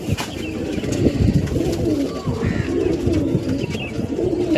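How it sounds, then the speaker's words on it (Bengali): Two male pigeons coo close by in a steady, overlapping stream of low, throaty rolling calls that runs continuously throughout, with no talking. "এই হচ্ছে পায়রা, দুটোই নর পায়রা"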